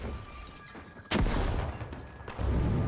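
A frag grenade goes off in The Finals with one sharp, deep blast, followed by a rumbling tail and a second lighter boom a moment later amid steady game noise.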